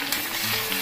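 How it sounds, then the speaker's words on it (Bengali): Chicken pieces and burnt potatoes frying in mustard oil with spices, giving a steady close sizzle with faint stirring scrapes throughout, no voices. "দিয়ে দিচ্ছি ঝলসে রাখা চিকেন, তার সাথে দিয়ে দিচ্ছি পোড়া আলু। এইবার একটু সময় কষিয়ে নিচ্ছি।"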